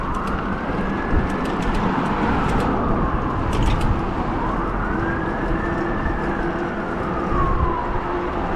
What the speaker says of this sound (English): There's an emergency vehicle.